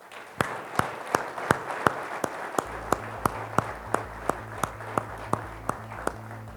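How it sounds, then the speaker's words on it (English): A closing round of applause at a Chain of Survival event, heard as evenly spaced, sharp claps at a steady rhythm, fairly close and moderately loud, with a low tonal hum entering partway through. "how about one last round of applause?"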